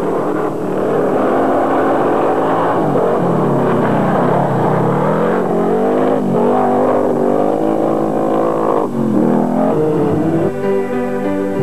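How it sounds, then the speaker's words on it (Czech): Autocross race cars competing at an international event in Dolní Bousov, engines roaring and revving loudly and continuously, rising and falling as the cars pass, with no voices over it. "Dolní Bousov je však populární také svými proslulými mezinárodními závody v autokrosu."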